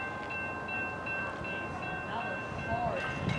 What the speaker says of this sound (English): Here comes Amtrak P029 in Brunswick